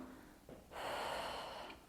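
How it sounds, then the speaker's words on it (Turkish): Deep breathing in and out during a pregnancy walking exercise, a short faint intake followed by a longer, louder steady exhale, close and alone. "Nefes alıp vermeyi unutmayın."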